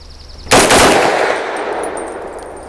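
A single sharp pistol shot from an Extar EP9 Gen 2 fed from a factory Glock magazine cracks loudly at close range outdoors, followed by a long fading echo and faint metallic tinkles.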